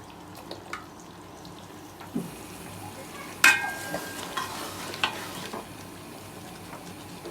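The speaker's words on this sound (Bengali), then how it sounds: "এখন নাড়াচাড়া করে কিছুক্ষণ আমরা ঢাকনা দিয়ে ঢেকে কষিয়ে নিব।" Moringa drumsticks cooking in mustard paste are stirred in a pan, with a soft simmering sizzle, scattered scrapes and a few sharp metallic clinks of the spoon against the pot, fairly close and without talk.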